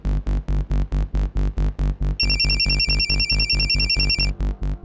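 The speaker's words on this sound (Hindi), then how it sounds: "फोन लगाइए अपने बेटे को।" A phone ringtone heard over a speakerphone during a call, sounding as a steady rapid pulsing ring with a higher warbling tone layered in the middle, loud and clear with no talk over it.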